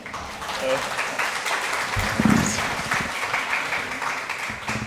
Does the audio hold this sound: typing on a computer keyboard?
no